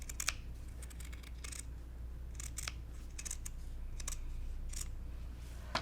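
Scissors snip through quilting fabric along a marked square, a series of crisp close cuts in short bursts with brief pauses between, over a faint steady hum, no talking.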